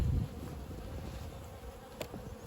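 Honey bees swarm around an open apiary hive during autumn feeding and winter preparation, with robber bees about; a dense, continuous close buzz fills the clip, with a louder pass near the start.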